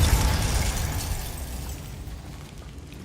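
A Depulso force spell is cast in Hogwarts Legacy, landing as one loud booming blast up front that decays into a rumbling wash, with a sharp new hit just at the end.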